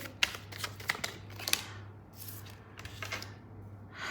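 Tarot cards being drawn and shuffled, a quick run of papery flicks and snaps close by, with a few sharper clicks over a low hum.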